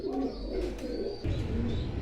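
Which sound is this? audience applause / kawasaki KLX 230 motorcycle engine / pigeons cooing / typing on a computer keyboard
pigeons cooing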